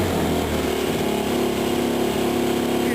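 A 2005 Yamaha YFZ450 ATV engine with a fault that leaves it hanging at a high idle once the throttle is touched: a loud, continuous close-up buzzing drone that rises in pitch, then stays steady and raised.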